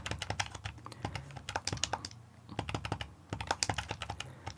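Buttons on a Data Frog SF2000 handheld game console being pressed to type a search, a quick irregular run of crisp plastic clicks heard up close with short pauses and no talking.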